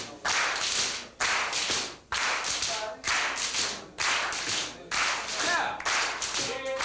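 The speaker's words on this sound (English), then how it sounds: "You clap your hand, let one hand slide off and slap your leg, then slap the other leg." Rhythmic body percussion of hands clapping and then slapping the legs, repeated in steady bursts about once a second, close and fairly loud, with a brief spoken word.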